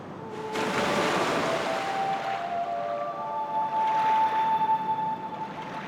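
Eerie, wordless singing drifts through Sea Serpent Cavern at night in the Wii Sports Resort video game, sustained wavering tones over a steady wash of surf and wind, continuous and fairly loud for the whole stretch.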